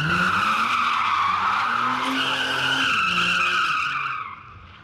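A Nissan GT-R drifting, its tires letting out a loud, sustained squeal that shifts pitch as the engine roars close by, then trails off and fades near the end.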